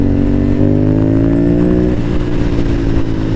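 A motorcycle engine drones loud and close, its pitch shifting downward as the rider downshifts, with steady road and wind noise throughout.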